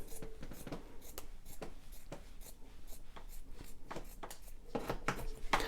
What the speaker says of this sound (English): I'm just going to cut it in half to remove that logo